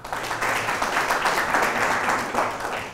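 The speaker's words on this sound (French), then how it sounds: "On l'applaudit." An audience at a school play applauds an actress, a dense, steady burst of many hands clapping close by for a few seconds, fading slightly at the end.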